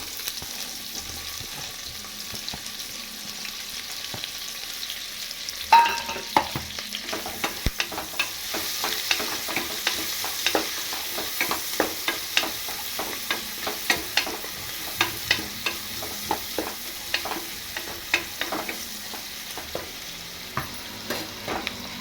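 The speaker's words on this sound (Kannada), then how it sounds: "ಹಾಕೊಂಡು ಚೆನ್ನಾಗಿ ಫ್ರೈ ಮಾಡ್ಕೊತಾ ಇದ್ದೀನಿ" Sliced onions fry in a pan for an egg biryani, giving a continuous soft sizzle broken by a run of sharp, regular scraping taps as a spoon stirs them, close up and with no voices.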